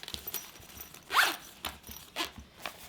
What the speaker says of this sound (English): now open your main zipper up top here